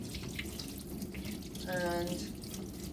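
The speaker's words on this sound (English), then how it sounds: "you put the plug in and you turn the cold tap on" A cold tap runs steadily into a darkroom sink, a constant watery rush with a brief splashy rise near the middle while a voice speaks over it.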